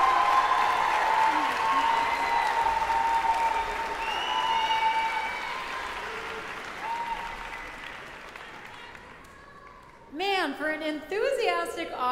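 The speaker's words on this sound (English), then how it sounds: "let's give one more round of applause for the choir, the choir committee." Sustained applause from a school audience fills a music festival hall for the choir, steady and fairly loud before easing off, with a voice speaking over it toward the end.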